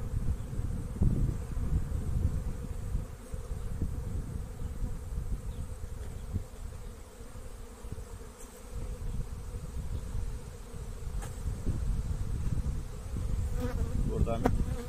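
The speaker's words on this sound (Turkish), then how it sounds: "günlük işçi arılar" Dense, continuous buzzing of many honeybees close by, a steady low drone with occasional louder passes of individual bees.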